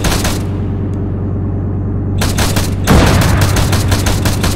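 Sustained bursts of automatic gunfire in ARMA 3 on a Thai server during an armored hostage-rescue mission, rapid overlapping shots over a low engine rumble, growing denser and louder partway through with a heavy boom.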